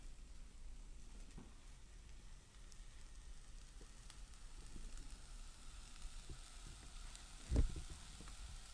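Carrot sizzling in a hot pan with olive oil while making cracked wheat pilaf, a steady soft frying hiss with faint stirring clatter and one brief knock near the end.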